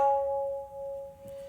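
One struck note on a small wooden tabla drum rings out as a clear, high, sustained tone that fades gradually, sounding close and alone.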